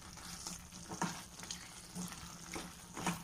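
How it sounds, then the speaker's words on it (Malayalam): Chicken coated with chilli sizzles in a pan over high flame for a roast, a steady frying hiss broken by periodic stirring scrapes, close and moderately loud with no talk. "ഇനി നമുക്ക് ഹൈ ഫ്ലെയിമിൽ ഒരു 5 മിനിറ്റ് ഇതൊന്ന് വഴറ്റിയെടുക്കാം."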